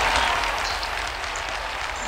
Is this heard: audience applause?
yes